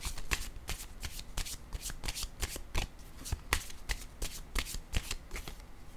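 An oracle card deck handled and shuffled, a rapid run of crisp card flicks and riffling snaps in quick succession, close and fairly quiet, with no one speaking.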